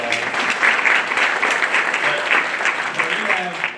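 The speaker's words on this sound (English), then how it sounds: "Give Doris a round of applause" Audience at an awards ceremony for Louisiana Students of the Year gives a round of applause, a moderate burst of clapping that mixes with a speaking voice throughout.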